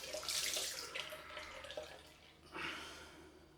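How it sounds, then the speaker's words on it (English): Cold tap water running onto a cloth at a bathroom sink after a head shave, a faint splashing gush with soft trickles and drips, briefly rising again near the end. "Get some cold water on this cloth."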